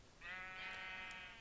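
Sheep on a farm in the video game Minecraft give one faint, wavering bleat that lasts about a second, heard alone against a quiet background.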